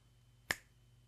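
A single sharp finger snap, close and clear against near silence, made with a rubber band slipped over two fingers during a magic trick.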